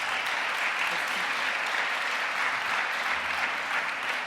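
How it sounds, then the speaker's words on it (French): An audience at an evening event honouring volunteers and engagement claps in a sustained, even wash of applause, moderately distant, with a murmur of voices beneath it. "on peut aussi vous applaudir"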